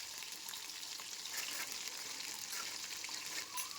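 Onions and curry leaves fry in oil, producing a faint, steady sizzling hiss with light crackles throughout.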